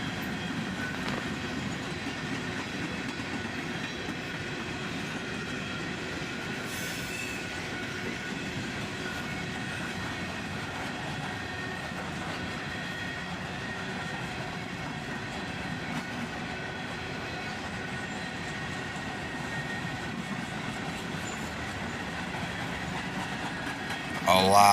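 A long freight train with many hopper cars rolls past close by, steady rumble and rhythmic clickety-clack of wheels over rail joints, continuous throughout.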